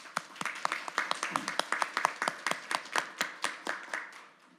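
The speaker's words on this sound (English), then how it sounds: "Let's give them a round of applause." Rhythmic, fairly sparse clapping from a small audience at a scholars signing ceremony, individual claps distinct and roughly regular, tapering off at the end.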